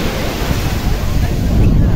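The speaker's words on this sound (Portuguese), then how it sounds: "E agora tá ventando bastante." Strong wind and surf at Nazaré beach in Portugal, a loud, close roar of waves with heavy wind buffeting the microphone throughout.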